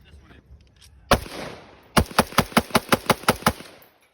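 Rapid rifle fire from a rifle fitted with an Aero Precision H2 buffer at a range: two single loud shots, then a quick even string of about nine sharp cracks, close and loud.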